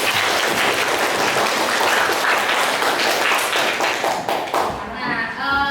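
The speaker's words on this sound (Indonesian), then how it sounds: "Kasih tepuk tangan dulu untuk kita semua" Students in a classroom during a chemistry lesson break into steady, fairly loud group clapping that lasts about five seconds before fading into a brief voice.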